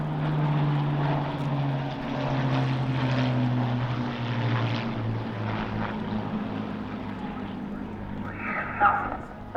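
Bristol Blenheim, a large twin-engine RAF bomber of the early 1940s, passing overhead at the Eastbourne International Airshow, its steady propeller drone sustained throughout under a commentator's talk, with a brief sharper sound near the end.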